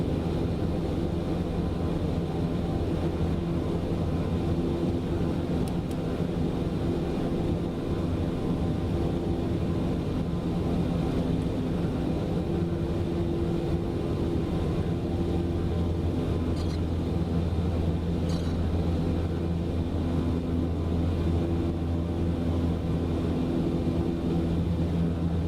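Piston engines of an L-1049 Constellation taxiing toward the runway, a steady, loud, continuous drone with strong low harmonics held throughout, no voices.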